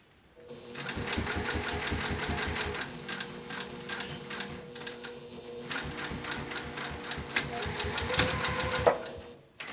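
Sewing machine stitching binding onto a bi-fold wallet, a steady close mechanical whirr with a fast needle rhythm that briefly eases, picks back up, and ends in a short backstitch burst.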